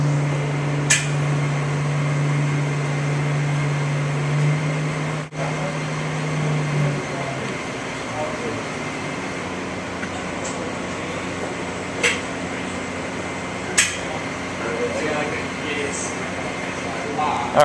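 Inside a shop, an injection molding machine drives its carriage forward while installing a mold: a loud, steady mechanical hum whose low drone shifts partway through, with a few sharp clicks scattered over it.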